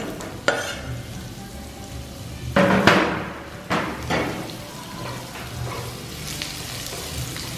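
Onions sautéing in hot oil in a pan while cooking fish curry, a steady close sizzle broken by a few scraping stirs and thumps of a utensil against the pan, with no voices.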